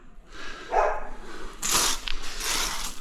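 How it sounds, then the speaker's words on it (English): Dogs barking nearby during indoor tiling work, several sharp barks in bursts across the clip over a low background hum, with no talk. "Dogs are still woofing."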